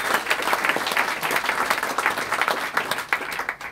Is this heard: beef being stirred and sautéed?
no